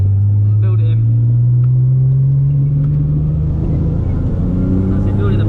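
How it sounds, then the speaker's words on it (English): A Nissan GTR's engine drones loud and steady while drifting on a track, pitch climbing slowly as the throttle feeds in, heard from onboard with an instructor's voice over it. "Feeding in the accelerator again. Build it in."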